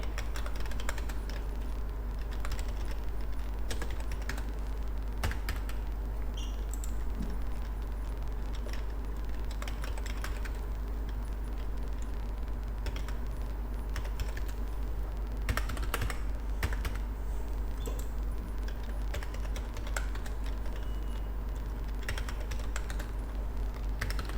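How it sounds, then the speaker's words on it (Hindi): A computer keyboard is tapped in a steady, uneven stream while data is entered into a spreadsheet, the keystrokes faint against a constant low electrical hum. "तो सबसे पहले कुछ डाटा को टाइप कर लेना है।"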